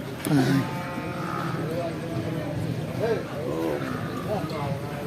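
Buffalo and other livestock at a busy village cattle market, with animal calls and bleats mixed into a crowded murmur while people talk nearby.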